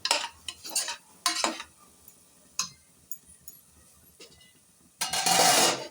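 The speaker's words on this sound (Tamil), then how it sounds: "எண்ணெயிலே நம்ம நல்லா வதக்கிடுவோம்" Ingredients being sautéed in oil in a pan for a Tamil-style goat head curry, heard as intermittent scraping stirs and clinks, then a loud, steady sizzle near the end; no one speaks.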